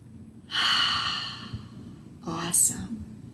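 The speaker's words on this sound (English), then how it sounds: "Deep breath in through your nose." Deep inhale through the nose during a family yoga session, followed by a second breath with a brief voiced sound, close and soft against quiet room background.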